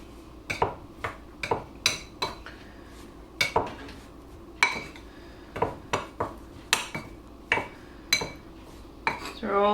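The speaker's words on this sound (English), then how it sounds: "we're just going to toss these cherries in that flour" Cherries are tossed in flour in a bowl while making a cherry cake, giving a close, irregular series of light clicks and taps of fruit against the bowl, with no talking.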